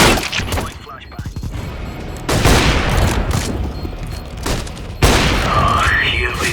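A flashbang pops and gunfire bursts in a Counter-Strike: Global Offensive match, loud repeated blasts and crackling shots arriving in waves, with game voice lines mixed in.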